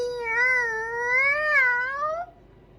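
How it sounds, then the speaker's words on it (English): A small cat stuck high in a tree gives one clear, drawn-out meow that rises and wavers before cutting off abruptly, close and alone against a quiet background. "Oh, it's a cat."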